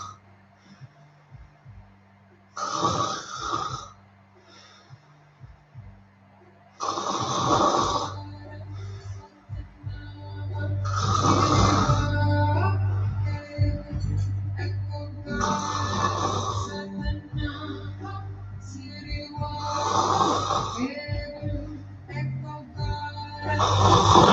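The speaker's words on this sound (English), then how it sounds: "He's got a very powerful snore." A man snores loudly and powerfully, with about five deep rasping breaths in a slow, steady rhythm over a low background hum.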